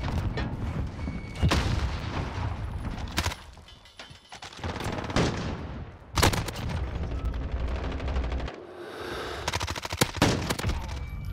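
Hip-fired MP5 submachine gun bursts in Modern Warfare, loud, rapid strings of shots broken by short pauses, with repeated sharp cracks and heavy reports across the whole stretch.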